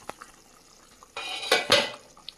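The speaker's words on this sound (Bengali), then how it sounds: "ঢাকনাটা খুলে দেখে নেব।" A metal lid lifted off a simmering pot of fish curry broth, a clattering scrape of metal on metal followed by a second clank, close and alone with faint bubbling.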